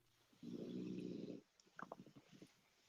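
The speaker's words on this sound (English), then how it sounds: "Love dog snoring." A sleeping dog lets out one long rumbling snore, followed by a series of short snuffling breaths, faint and close in a quiet room.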